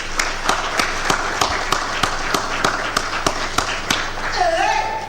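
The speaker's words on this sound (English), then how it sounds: "As they walk in, let's give them a round of applause." An audience applauds as a troupe of dancers walks in at a live sporting-activities unveiling event, with steady broad clapping under regular sharp thumps, and a voice rises briefly near the end.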